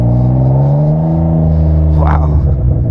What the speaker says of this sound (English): it's sad that the exhaust is so loud because it actually looks really cool